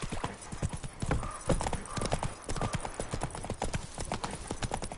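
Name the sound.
horse galloping hooves in The Witcher 3 video game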